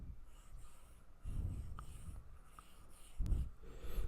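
An eraser wipes a classroom board during a math lesson, producing soft, close rubbing strokes in a few short bursts against a quiet room.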